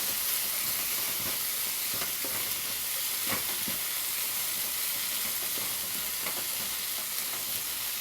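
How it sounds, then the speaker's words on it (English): Onions sizzle steadily in a hot pan for paneer do pyaza, a constant frying hiss broken by occasional soft clinks and scrapes of stirring. "now I'll let it cook for 5 to 7 minutes until my onions are translucent"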